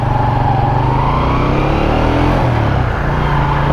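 A restored Honda CG 125 motorcycle idles and revs close by. The single-cylinder engine gives a loud, steady throb that rises and dips a little, with no voices over it.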